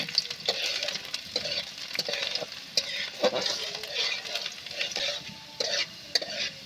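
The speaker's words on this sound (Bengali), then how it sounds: "রসুনটা ভালোভাবে নেড়ে চেড়ে আমি লাল লাল করে" Garlic frying in hot oil in a pan, a bright continuous sizzle with frequent spatula scrapes and taps as it is stirred, close and steady with no voices.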